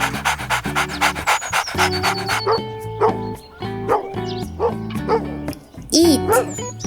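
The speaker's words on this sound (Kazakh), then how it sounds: "Ит." A dog barks and pants in short bursts over steady melodic background music, the yips and breathy panting most evident in the second half.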